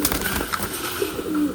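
Japan Koopman racing pigeon cooing close by, soft low repeated coos over steady background noise in a pigeon loft.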